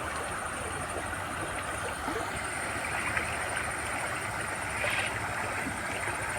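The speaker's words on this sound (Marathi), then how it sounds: "आणि हे पा पाणी मस्त वाहत आहे स्वच्छ" Steady rushing of a clear stream flowing past farm fields, continuous and fairly loud throughout, with no voices.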